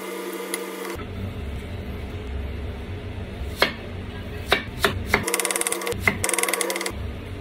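Crispy leftover pork adobo flakes, made with spiced vinegar, crunch and crackle in a series of sharp bursts, with scattered individual crunches followed by rapid clustered ones, close and fairly loud.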